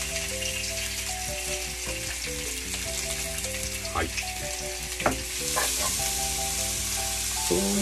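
Carrots and other ingredients sizzle and crackle steadily in a frying pan while Amakusa champon is cooked, with a few stirring clinks and music playing softly underneath.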